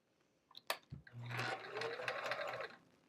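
A sewing machine stitches an envelope pillow case, starting with a few clicks and a thump, then a steady whirring run of rapid stitching for about a second and a half, quiet and close.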